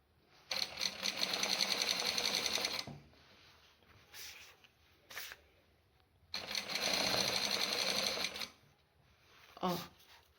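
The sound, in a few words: sewing machine stitching along a skirt hem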